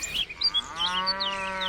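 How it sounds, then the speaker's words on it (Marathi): A pair of village bullocks lets out a moo, a rising low drone held for over a second after some brief higher squeaks at the start. "शिवाची बैल जोड"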